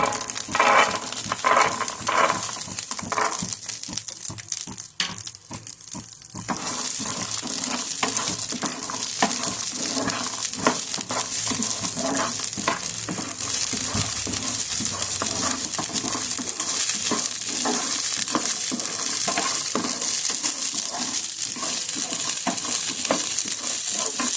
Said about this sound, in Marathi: हा एक वाटी मटर जो आहे ना तो परतून घ्यायचा